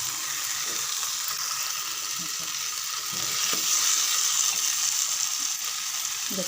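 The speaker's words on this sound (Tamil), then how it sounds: "நல்லா ஒரு 5 நிமிஷம் வதங்கட்டும் ஃப்ரெண்ட்ஸ்" Chicken pieces and liver sautéing in a pan for chicken kuzhambu, giving a steady, dense sizzle that runs continuously and swells slightly midway, with faint stirring knocks underneath and no talk.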